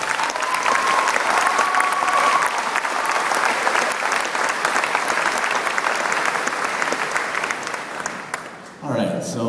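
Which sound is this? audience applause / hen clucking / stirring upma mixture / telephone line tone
audience applause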